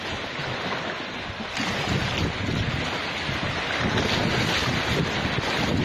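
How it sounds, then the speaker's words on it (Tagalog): Strong, steady rush of sea waves and wind buffeting the microphone at Umbrella Rocks, Agno, Pangasinan, loud and continuous with no pauses. "medyo malakas ang alon dito, saka medyo malalim."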